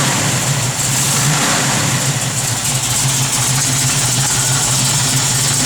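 A 1967 Chevrolet Camaro RS/SS with a 427 V8 rumbles loudly and steadily up close, holding a throaty idle with slight revving swells.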